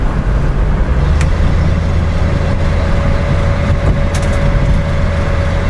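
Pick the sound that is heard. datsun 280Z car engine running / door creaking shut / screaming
datsun 280Z car engine running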